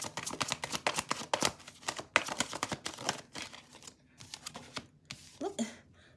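Tarot cards are shuffled by hand in quick bursts of crisp, snapping flicks and riffles, close and fairly quiet, with short pauses between the bursts.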